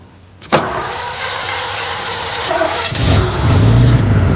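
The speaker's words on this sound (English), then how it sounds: "And managed to start the car." An old car's engine cranks with a sharp click and catches, settling into a rough running rumble that grows louder and deeper toward the end, heard up close with no voices.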